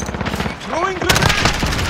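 Rapid automatic gunfire in Call of Duty Modern Warfare multiplayer on the Shipment map, loud close bursts of rifle fire with shots and impacts layered together, continuous over about two seconds.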